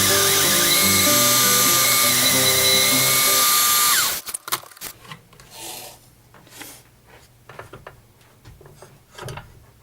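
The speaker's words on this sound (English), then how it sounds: "take out as much as I can with the Forstner bit" A Forstner bit bores into a wooden vase spinning on a woodturning lathe, making a loud, steady, high-pitched whine with shifting grinding tones for about four seconds before stopping. Quieter scraping and clunks follow as the machine winds down.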